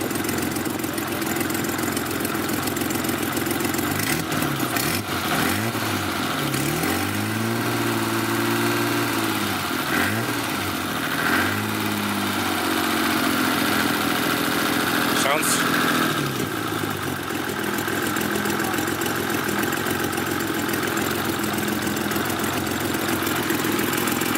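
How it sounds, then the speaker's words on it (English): A BMW E30 engine idles with an exhaust leak, a steady, loud, rough rumble that runs the whole time with slight revving shifts partway through. "Exhaust leak from hell."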